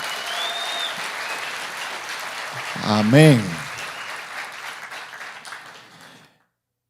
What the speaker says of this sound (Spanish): Vamos a darle ese aplauso más fuerte, iglesia.